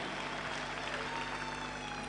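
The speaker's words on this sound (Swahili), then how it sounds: "Pigieni makofi mazuri" At a church conference in Kenya, the audience applauds in a dense, steady wash of clapping from a large crowd in a hall, loud and continuous throughout.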